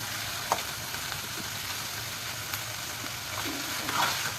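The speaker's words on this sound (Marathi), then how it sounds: "कांदा चांगला परतून घ्यायचा आहे." Onions and chillies sauté in a pan for kanda poha, giving a steady close sizzle with a few soft clicks and scrapes of stirring.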